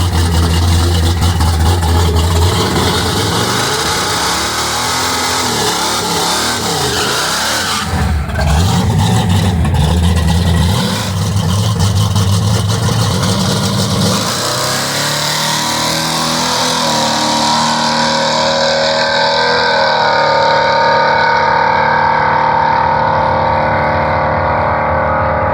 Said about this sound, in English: So we're gonna run the truck, see what it'll do.